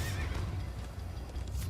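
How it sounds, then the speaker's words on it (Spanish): A horse in the video game Minecraft Story Mode whinnies in a drawn-out neigh over a dense, steady game soundscape with low rumbling and hooves clip-clopping through the short stretch. "Es mi primera vez en un caballo"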